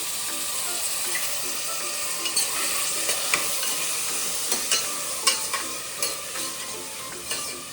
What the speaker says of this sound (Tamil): இப்போ ஒரு வெங்காயம் போட்டு தாளிச்சிக்கலாம்